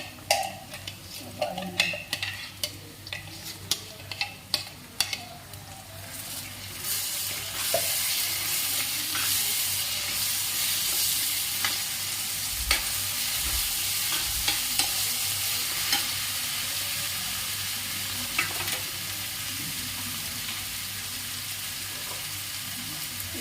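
Onions fry and sizzle in a pan as a stuffing base for bitter gourd, with a steady hiss and scraping stirs; a spoon clinks against the pan at first before the frying noise takes over.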